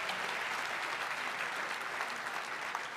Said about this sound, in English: Just by applause, let me hear how many people this is your first time here.